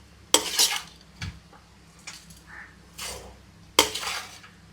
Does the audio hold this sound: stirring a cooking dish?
yes